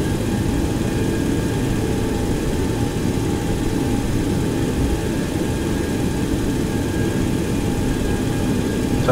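Airplane engine in a flight simulator game, a steady loud droning hum with faint tonal whine, unchanging for the whole stretch with no speech.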